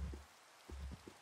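Rain falling in the video game Minecraft, a soft continuous patter with a few low thumps of in-game activity over it, fairly quiet and with no one talking.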